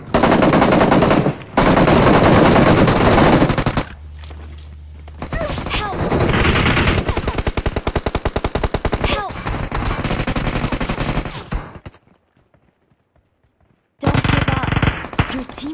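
Enemy bot firing in BGMI, bursts of rapid automatic gunfire in loud sustained volleys, broken by short pauses and a near-silent gap before the shooting resumes, with a voice talking over parts of it.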